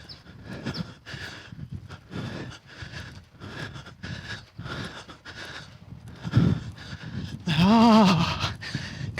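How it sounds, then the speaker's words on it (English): A horse canters in a riding lesson, with rhythmic hoofbeats and loud regular breathing close by, and a short snort or whinny toward the end. "now we're getting into canter"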